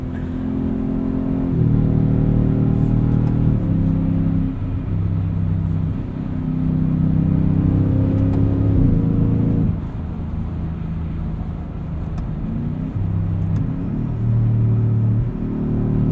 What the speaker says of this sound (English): Let's go into sport mode. See what a quick highway pull looks like here.